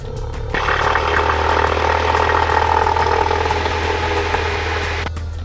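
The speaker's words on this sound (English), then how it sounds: "Normal takeoff, power coming in." A light training airplane's engine rises to takeoff power, a loud, steady droning roar that comes in quickly after a brief quieter start and holds strongly to the end.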